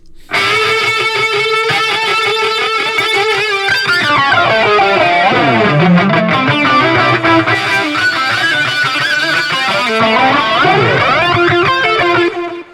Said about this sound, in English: I'm going to take off the clip distortion and then I'm going to bring it in just so you can hear what it does